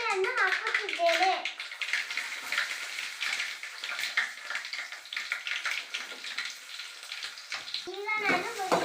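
Onions and mustard seeds frying in a pan, a steady crackling sizzle running throughout with a voice over it near the start and the end.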